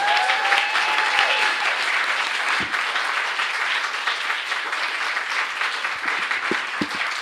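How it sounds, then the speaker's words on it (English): At a writing launch event, an audience gives the writers a long, sustained round of applause, dense and steady clapping that carries on for the full seven seconds with a few sharp knocks near the end. "I think we should really give our wonderful writers another round of applause for their fabulous work"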